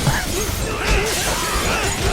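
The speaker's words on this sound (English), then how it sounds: "Smashing open the window." A window smashes open in the video game Judgement, a sharp glass shatter followed by scattered falling shards and crunching debris over a game soundtrack.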